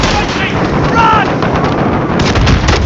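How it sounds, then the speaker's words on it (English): Rockets and gunfire erupt in the Call of Duty Modern Warfare video game during a street battle, a loud, dense wall of blasts and rattling shots that continues without pause. "They're firing rockets from the roof of the Tanto building!"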